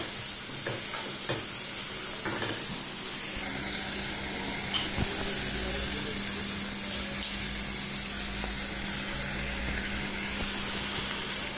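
Minced meat with spices stir-fried in a pan, a loud continuous sizzle with scraping and stirring strokes from a utensil throughout, close up and with no talking.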